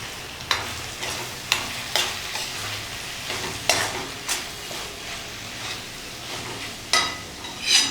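Grated paneer is stirred and mixed in a pan with a soft sizzle, and a spatula scrapes and taps the pan in repeated strokes, close up, roughly every half second to a second.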